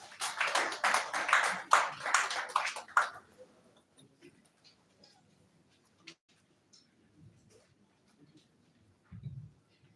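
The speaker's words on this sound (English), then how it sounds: "A round of applause for him, please." A short round of applause greets the INEC chairman at a meeting with civil society organizations, rising in quick claps for about three seconds before cutting off into a quiet room with faint scattered taps.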